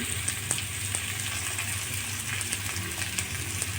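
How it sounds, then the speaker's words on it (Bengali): Onion with garlic and grated ginger frying in a pan gives a steady, close sizzle with a dense crackling hiss that holds evenly throughout, with no voices. "পেঁয়াজটা আমি অল্প করে ভেজে নেবো"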